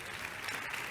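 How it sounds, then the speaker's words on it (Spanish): An audience at a cultural forum applauds an award recipient, a dense, steady wash of clapping held at even loudness for about a second. "Us demanaria un aplaudiment per la Svetlana per aquest premi"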